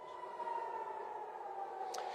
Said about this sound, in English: sirens are just sounding right now, as you can plainly hear behind me